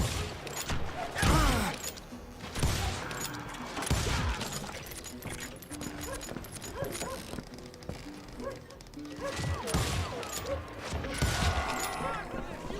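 Gunfire in the Western shooter game Call of Juarez: Gunslinger, with several loud sharp bursts of shots scattered across the clip among clanks and mechanical noises, while voices speak at times in between.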